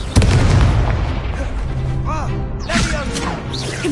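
A Confringo spell bursts in Hogwarts Legacy gameplay on PS5 with a heavy booming explosion right at the start, followed by rumbling debris, whooshing spell effects and a second crash amid ongoing combat noise, with some voices underneath.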